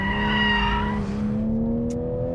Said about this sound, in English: it's got the grunt to light up these tires